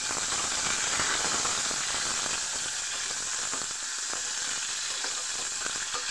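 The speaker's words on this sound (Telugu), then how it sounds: "కాకరకాయ ముక్కలు అయితే దోరగా వేగించుకుందాం" Bitter gourd pieces frying in a pan, giving a steady dense sizzle with faint stirring scrapes, continuous and close with no talk.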